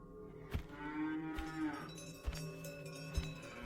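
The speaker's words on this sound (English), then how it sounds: "After the cows had crossed the road" Cattle moo repeatedly on a roadway, several drawn-out lowing calls overlapping at moderate distance, with a few sharp knocks and steady outdoor background noise underneath.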